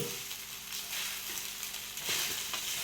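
Sago (sabudana) stir-fried in a pan, giving a continuous soft crackling sizzle with faint scraping of stirring, close and even.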